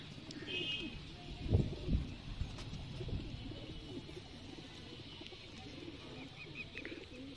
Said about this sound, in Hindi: प्योर कबूतर है ये, 7-8 साल पुराना कबूतर है ये